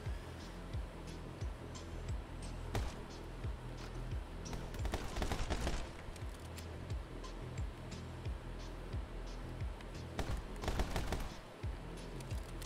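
Gunfire in the video game My Friend Pedro comes as rapid bursts of shots, fast clustered volleys over a pulsing game soundtrack, moderately loud and close.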